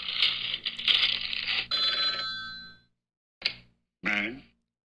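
A phone rings during a call, with a burst of bright electronic ringing followed by two short tones after a pause, heard fairly close alongside some speech.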